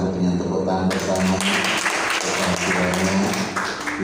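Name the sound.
church congregation applauding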